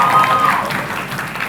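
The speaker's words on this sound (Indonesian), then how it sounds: "Boleh tepuk tangan dan semangat buat kita semua." An audience at a high school quick-answer quiz contest in South Sumatra, Indonesia, breaks into loud, sustained applause, a dense wash of hand clapping close by with a faint tone ringing beneath it.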